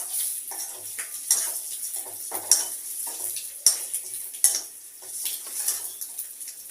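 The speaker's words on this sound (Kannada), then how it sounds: "ಈ ಥರ ಫ್ರೈ ಮಾಡ್ತಾ ಇದ್ದೀನಿ" Oil sizzles steadily in a pan with chilli powder for egg biryani, broken by sharp stirring scrapes and metal clinks of a spoon against the pot, close and without talk.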